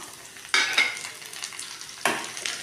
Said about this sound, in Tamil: இதில் ஒரு பெரிய மீடியம் சைஸ் தக்காளியை நான் நீல வாக்கில் கட் பண்ணி வச்சுருக்கேன். அதை இதோட போட்டுக்கலாம்.